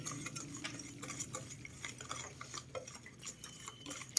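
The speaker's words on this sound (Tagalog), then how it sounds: "haluin lang natin mabuti" Kutsinta batter mixed with lye water stirred in a bowl: continuous close scraping and light clinking strokes in a quick, even rhythm, with no voices.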